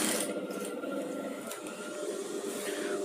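Sewing machine stitching close along the zip chain of a padded gown, a steady mechanical whir with a fast repeating needle rhythm, running near and continuous at moderate loudness.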